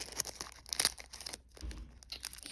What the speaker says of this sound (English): I decided to just use scissors, which I'm going to do right now.